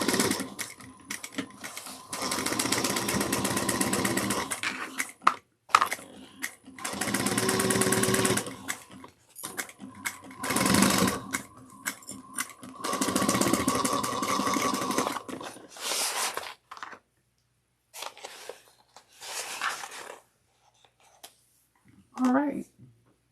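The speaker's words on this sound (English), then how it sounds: "we're going to sew 3/8 of an inch" A sewing machine stitches a 3/8-inch seam with backstitching on the middle divider pocket of a bucket bag, running in several bursts of steady whirring separated by pauses, with a brief voice near the end.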